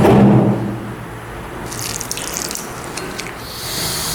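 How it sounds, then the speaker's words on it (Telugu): Water poured over a lump of tamarind to soak it in a kitchen, a steady running, tap-like pour with light splashing and drips, close and fairly loud after an opening thump. "చింతపండు నీళ్ళు పోసుకొని కొంచెం చింతపండుని నానబెట్టుకోవడానికి పక్కన పెట్టేసుకుంటున్నాము."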